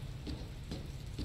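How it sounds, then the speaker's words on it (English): Steady rain falls in the video game Dr. Langeskov, a dense continuous hiss with faint soft patter running through the whole short stretch. "I don't think it's supposed to still be raining"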